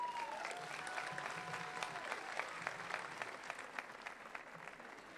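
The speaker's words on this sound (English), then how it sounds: "let's give him a round of applause for being here today." A crowd applauds at a vigil in Reston, Virginia: steady, dense clapping from many hands, moderately distant and sustained throughout, with a faint voice briefly audible early on.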